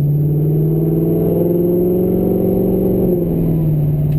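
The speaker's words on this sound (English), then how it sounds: "And then the aftermarket exhaust, if you can't already hear it," A steady, deep Audi R8 engine drone through an aftermarket exhaust with a throaty note, holding a constant low rumble with a slight dip in pitch near the end.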